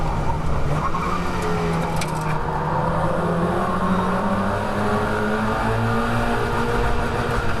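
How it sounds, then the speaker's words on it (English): A Mazda MX5 race car at Croft circuit drones loudly and steadily from inside the cockpit, engine held high in the revs with a stuttering, buzzing edge against the limiter and faint tyre scrub underneath. "You can also hear us hitting the rev limiter there."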